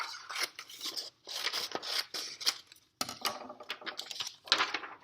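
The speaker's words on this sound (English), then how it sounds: "I will want to cut this down so that I don't have a lot of extra paper." Scissors snip through drawing paper to trim excess before taping for a grid drawing, a run of close, crisp cuts with short pauses between strokes.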